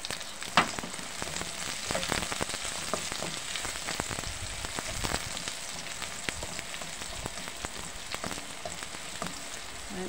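Onions frying in a pan while cooking sautéed chayote with pork, a steady soft sizzle with frequent crackling pops and occasional stirring clicks, fairly quiet and close with no talk.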